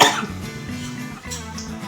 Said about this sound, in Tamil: எனக்கு தான் இருமுன்னு வருது